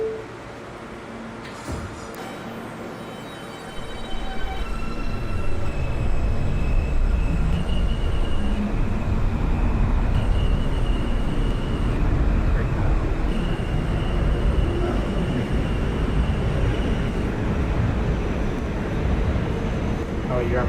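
An R160 subway train running on the J line in the OpenBVE train simulator. A quiet start gives way to a loud, sustained rumble of motors and wheels that fills the rest of the clip, with voices present.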